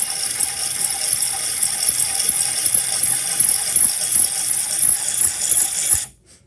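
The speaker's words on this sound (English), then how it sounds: "You want to file it straight across" Metal file rasping across the end of a piston ring during an LS 4.8 turbo engine build, a steady close scraping that runs several seconds and then stops abruptly.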